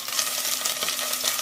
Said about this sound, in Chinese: 然后砂锅热油，我们加入一块姜、蒜头、红葱头，还有一些香菜头，先给它炒香